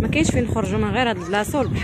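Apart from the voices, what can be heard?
None of the usual background noises is heard.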